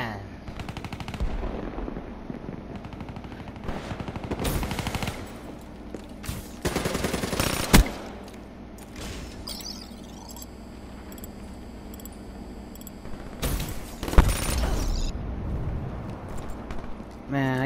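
A gun battle rages in the video game Call of Duty: Black Ops 3, with bursts of automatic fire and scattered single shots, some near and loud, others more distant, over a busy background while a player talks.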